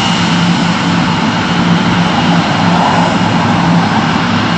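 A Cathay Pacific Boeing 747-412 jet takes off at Heathrow, a loud, steady, broad engine roar that holds unbroken throughout, with no voices.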